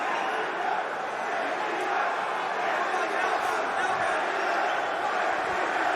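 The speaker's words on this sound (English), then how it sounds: "Crowd getting behind Giacomo Della Maddalena here under 2 minutes, round 4" Arena crowd at a championship MMA bout in the fourth round keeps up a constant loud roar and murmur for the whole span, a broad wash of voices with no single shout standing out.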